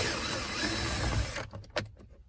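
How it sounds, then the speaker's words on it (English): A power drill removing screws during a 2015-2020 Ford F150 cabin air filter replacement whirs steadily for over a second, then stops, followed by a few quick clicks and light taps. "We're using a drill to speed this up."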